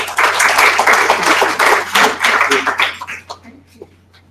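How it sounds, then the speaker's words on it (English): A lecture audience applauds a speaker at a theater outreach talk on invertebrates, a loud, dense burst of clapping with a little laughter that thins into scattered claps and fades out. "let's just give Dr. Yanagihara a round of applause"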